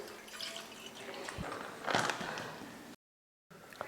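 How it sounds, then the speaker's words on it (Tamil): A quarter litre of milk poured out for tea, a soft steady liquid rush that swells briefly midway, then cuts off and resumes after a short gap; close and fairly quiet. "நான் ஒரு 1/4 லிட்டர் பால் ஊற்றிக்கிறேன்."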